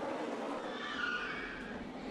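Tires on a NASCAR stock car squeal and skid as it spins around on the front straightaway at Darlington, a sustained screech heard from a distance over steady track noise.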